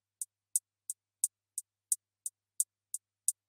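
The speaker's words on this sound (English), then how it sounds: "So first thing I got is just this two-step hi-hat that sounds like this." Two-step hi-hat pattern from an FL Studio beat: ten crisp, evenly spaced hits in a steady rhythm, bright and isolated against silence.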